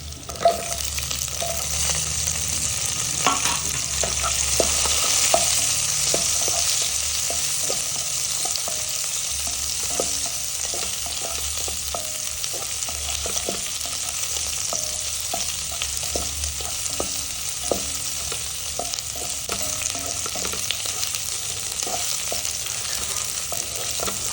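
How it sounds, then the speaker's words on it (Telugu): Onion and capsicum being stir-fried for restaurant-style veg manchurian, with a continuous loud sizzle and frequent scraping and tapping of the spatula throughout and no talking. "ఇందులో ఉల్లిపాయ వేస్తున్నాను ఉల్లిపాయ క్యాప్సికం వేస్తున్నాను"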